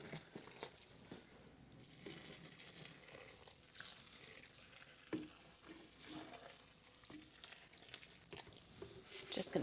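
Damp seed-starting soil mix for soil blocks is stirred with soft, gritty scraping and rustling, faint and close, with irregular louder scrapes and thuds as the mix turns.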